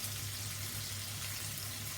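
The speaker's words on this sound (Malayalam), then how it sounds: "എണ്ണയിൽ നന്നായിട്ട് ഫ്രൈ ചെയ്താൽ നല്ലതാണ്" Onions fry in oil for a bitter gourd (karela) dish, giving a steady, soft sizzling hiss over a low hum, close by and unbroken throughout.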